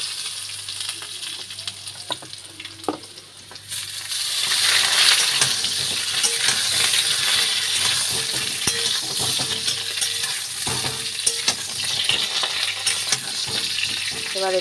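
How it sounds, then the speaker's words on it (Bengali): Mixed vegetables for shukto fry in a pan seasoned with radhuni spice, sizzling loudly and steadily while a utensil scrapes and stirs with intermittent clinks close to the pan. "রাঁধুনি দেওয়া হয়ে গেলে এবার আমি সব সবজিগুলো এতে দিয়ে দেবো একসাথে।"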